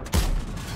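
A heavy tank gun firing in World of Tanks from a T77, with a deep booming blast near the start and a rumbling tail that fades slowly into the engine noise.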